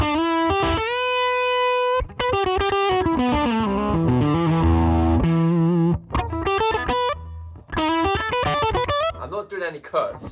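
A Yamaha Revstar electric guitar through a Marshall DSL1 amp turned up plays loud, distorted riffs and chords alone, with short gaps between phrases and some sustained notes.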